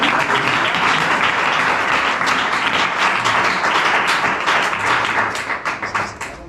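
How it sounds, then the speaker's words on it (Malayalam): Audience applause at a church Bible talent contest, a dense steady wash of many hands clapping that stays loud, then thins into scattered claps near the end. "ഇനി കൈയടി."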